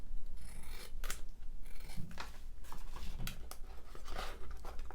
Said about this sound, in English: Squeaky scissors now as well as a squeaky table.